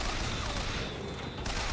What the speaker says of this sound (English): Oh gosh, I hear a turret.